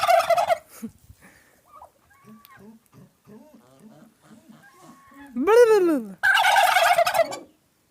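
Turkeys gobble loudly in bursts, with a rapid rising-falling warble, over quieter clucks and a person's voice nearby.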